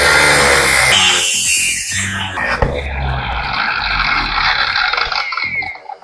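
An angle grinder held on a homemade stand cuts through metal, a loud harsh whine with grinding noise that runs throughout and shifts pitch midway as the disc bites, then tails off at the end.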